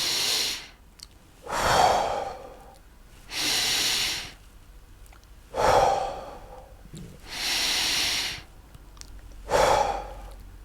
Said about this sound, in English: let's take a few deep breaths and notice if you're feeling calmer